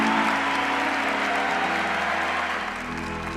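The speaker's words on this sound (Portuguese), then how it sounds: "Pode aplaudir." Audience applause follows a Catholic talk on chastity, a dense, steady wash of clapping that stays loud and continuous throughout, fading slightly toward the end.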